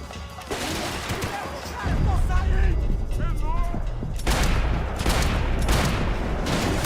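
Gunfire in the shooter game Max Payne 3, including revolver shots, with loud bursts of shots, clattering mechanical impacts and crashes coming in rapid clusters, and someone speaking over the action.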